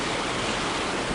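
A stream rushes beneath a small footbridge in Spearfish Canyon in South Dakota's Black Hills, a steady, dense wash of flowing water that stays close and constant with no voices.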